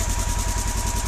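A 2016 Polaris Ranger 900 XP utility vehicle engine, recovering from water damage and fitted with E3 spark plugs, idles steadily nearby while warming up, with an even, low chugging rhythm and a faint mechanical hum, no voices.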